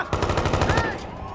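Gunfire from the Watch Dogs 2 video game: a fast burst of repeated shots in a steady rhythm, loud and close, followed by a short rising whine as the burst dies away.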